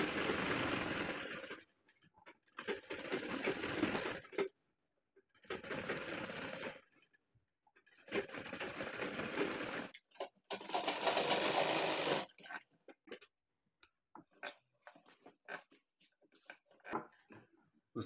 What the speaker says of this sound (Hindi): दोस्तों यहाँ पे हम एक सिलाई लगा लेंगे।